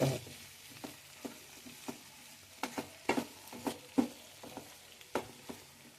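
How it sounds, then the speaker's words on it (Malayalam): Tomato and capsicum frying in a pan for fried rice. A soft, steady sizzle runs throughout, broken by sharp clicks and scrapes of stirring at irregular moments. "തക്കാളിയും കാപ്സിക്കും കൂടെ ഇട്ട്"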